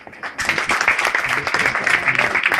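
An audience at an anniversary gathering breaks into applause after a speech, starting from a near-silence and swelling into loud, close, dense clapping that stays busy and uneven to the end.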